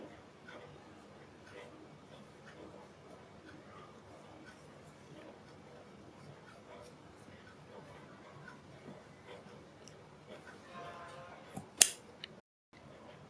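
Scissors snip fabric cord into short pieces, with soft, scattered cuts at close range and a sharper snip near the end.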